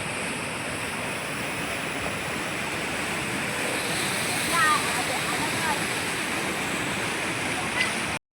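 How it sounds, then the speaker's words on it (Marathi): A river swollen by rain rushes past in a steady, loud, unbroken roar of flowing water that fills the whole stretch, close by and constant until it cuts off abruptly. "किती पाणी वाहते बघा खूप नदीला पाणी आले पाऊस पडल्यामुळे"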